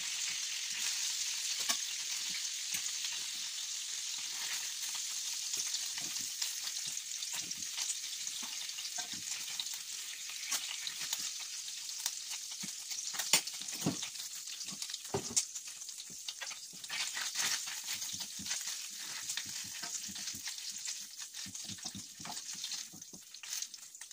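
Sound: food frying in a pan

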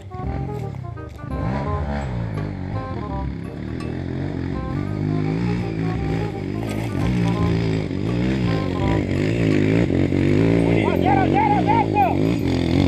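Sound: modified motorcycle engine revving on a trail

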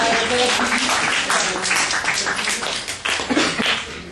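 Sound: applause

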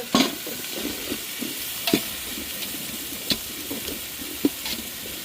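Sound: sautéing onions with spices for chicken biryani

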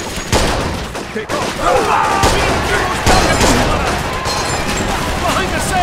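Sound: gunfire in the video game Mafia II

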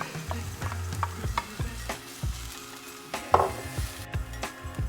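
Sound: carrots frying in a pan for meatballs

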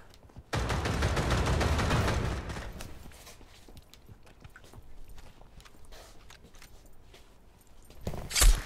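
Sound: gunfire in VR shooting video game Pavlov

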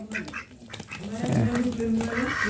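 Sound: male ducks being fed

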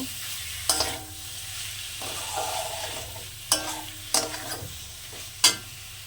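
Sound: minced chicken being stirred and fried in a pan

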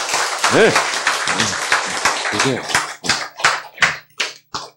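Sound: audience clapping

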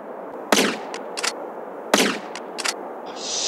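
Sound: gunfire in video game GTA San Andreas

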